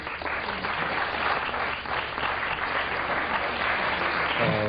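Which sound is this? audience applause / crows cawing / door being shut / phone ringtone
audience applause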